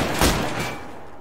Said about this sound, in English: Oh, I hear the shots.